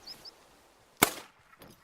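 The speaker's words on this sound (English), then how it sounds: "the volume of the gunshot. That was obviously small caliber" A single sharp small-caliber gunshot in the hunting video game theHunter: Call of the Wild, a crisp, fairly loud crack with a brief echo tail in quiet outdoor ambience.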